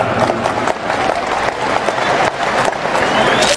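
A large crowd applauds at a political rally in GBK stadium, loud and sustained clapping with cheering that fills the whole stretch.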